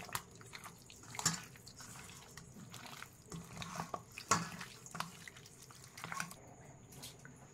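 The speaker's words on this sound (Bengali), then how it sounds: "সমস্ত উপকরণগুলোকে একসাথে মিশিয়ে ভালো করে ম্যারিনেটটা করে নিচ্ছি।" Mutton being mixed by hand with mustard oil and marinade ingredients, giving soft wet squelching and sloshing with scattered clicks and small knocks against the bowl, close and fairly quiet.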